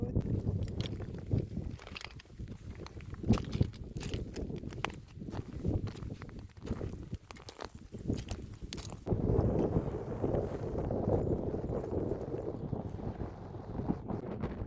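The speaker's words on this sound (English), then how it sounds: "Some wind gust here. That's typical for Waterton area." Strong wind near Mount Lineham in the Waterton area buffets the microphone in rough, roaring gusts, with a steadier rushing stretch toward the end.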